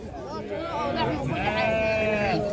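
Sheep bleat repeatedly at close range on a goat and sheep farm, the wavering calls overlapping while people talk over them throughout.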